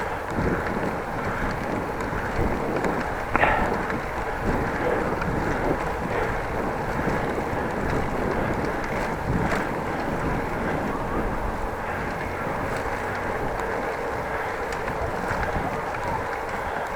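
Steady wind rushes across the microphone during a bike ride between Appingedam and Groningen, a continuous loud buffeting roar with a brief bump partway through.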